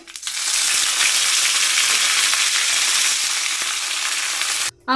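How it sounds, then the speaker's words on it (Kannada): Mustard seeds and cumin splutter in hot oil, a loud continuous sizzle with sharp crackling pops, close up, ending abruptly. "ಸಾಸಿವೆ ಜೀರಿಗೆ ಚಟಪಟ ಅಂತ ಸಿಡಿತಾ ಇದೆ"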